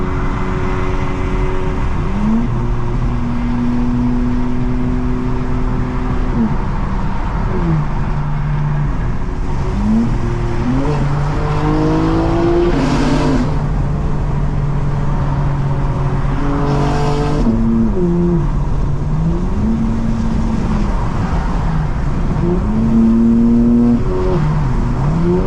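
A 2024 G82 BMW M4 Competition xDrive drives under load, its engine pulling through gears with rising revs, brief drops at shifts and steady road and tyre roar, loud and continuous from inside the car.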